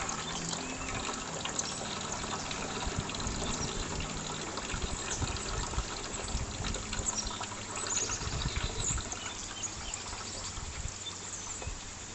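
Water pours and splashes steadily and fairly close as it is poured off tomato seeds, a continuous gushing flow with no voices.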